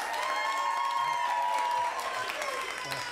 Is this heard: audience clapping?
yes